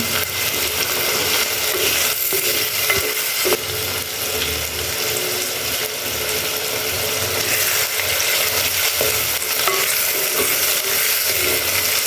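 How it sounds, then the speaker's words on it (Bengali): Onions with a little salt fry in a clay pot, giving a continuous loud sizzle with scraping and clattering as a utensil stirs them steadily throughout. "পেঁয়াজ ভাজা হয়ে গেছে"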